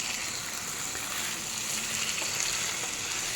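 Chicken and potatoes frying on a high gas flame, a steady hissing sizzle that stays fairly even and soft throughout, with faint stirring and no voices.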